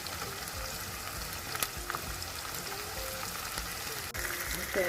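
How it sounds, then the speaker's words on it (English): Egusi, ground melon seeds, frying in a pot with caramelized onion, a steady soft crackling sizzle that runs evenly throughout with a few faint clinks. "I'm going to fry my egusi"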